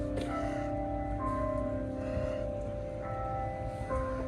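Electronic church bells, a Vernon system, ringing faint and distant in New York area surroundings, with sustained tones overlapping and decaying beneath low background noise.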